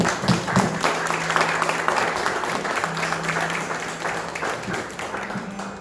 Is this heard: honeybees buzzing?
no